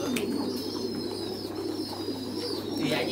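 Pigeons cooing steadily on a pigeon farm, a soft, continuous murmur of several birds close by with faint background noise.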